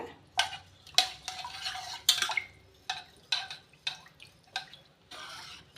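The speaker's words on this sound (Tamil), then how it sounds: "நெய் ஆட் பண்ணி நல்லா மிக்ஸ் பண்ணி விட்டுட்டு" A spoon stirs soaked rice and lentils with water and ghee in a cooking pot for ven pongal, making about ten close, rhythmic wet scraping strokes with soft clinks against the pot's side.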